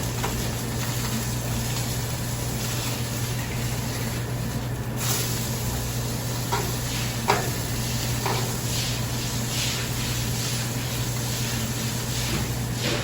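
A thin salmon fillet sears in a pan with a constant, fairly loud sizzle under a steady low hum, broken by a few soft taps and scrapes.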